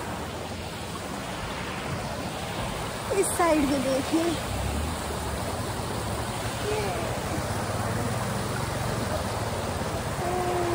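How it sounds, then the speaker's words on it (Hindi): Water rushes steadily down a waterfall in Assam, making a continuous broadband roar that fills the whole clip, while a person speaks briefly over it partway through. "देखो कितनी तेजी से पानी आ रहा है।"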